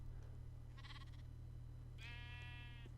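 Minecraft sheep bleating on a Feed The Beast multiplayer server: a short bleat followed by a longer, quavering one, alone over a quiet steady background hum.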